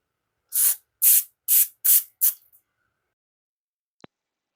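Brake cleaner fires in five quick hissing bursts through a rear end part from a 1996 Ford F-150, each burst sharp and close, followed by a faint tick and silence.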